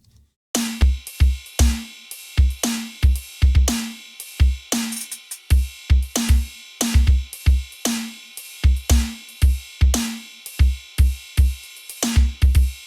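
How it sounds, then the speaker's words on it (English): A punchy drum groove with thumping kicks and sharp snare hits repeats in a steady rhythm, each hit trailing into a short washy tail of side-chained reverb. "With the rest of the drum elements, sounds like this."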